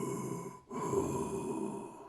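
A slow, heavy breath from a very large, eerie creature somewhere down a mine corridor. It is a low, steady rasp broken by a brief pause, faint and with no talk.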